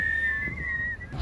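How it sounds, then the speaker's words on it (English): People whistling at a busy outdoor festival, a clear, steady sustained whistle tone held for about a second before it breaks off. "Why is everyone whistling?"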